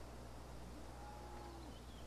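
Cattle lowing in Farming Simulator 17 near a barn: one faint, drawn-out moo rises over a steady low hum and background noise, quiet and somewhat distant.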